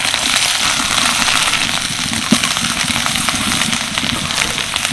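Mashed boiled potatoes fry in hot oil with spices, giving a loud, dense, continuous sizzle and crackle close up, with one sharp knock partway through and no speech.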